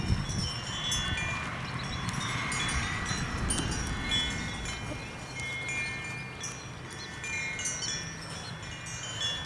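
Wind buffets the microphone in a garden with a constant low rumble and roar, steady for the whole stretch with no voices.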